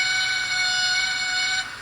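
A steady, shrill whistle with several bright tones from a model Great Western Railway train sounds continuously for about a second and a half, then cuts off.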